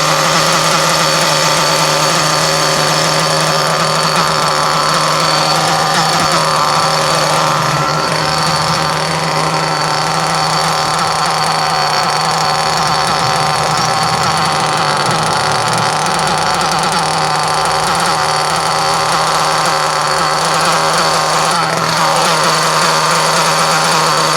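An engine idles in a steady, loud, continuous hum with a constant pitch and no voices, holding the same even drone for the whole stretch.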